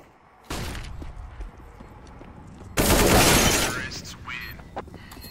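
M4 rifle fire in the Counter-Strike video game comes as two loud bursts of rapid shots, a short volley followed by a longer, denser spray, with faint game sounds between.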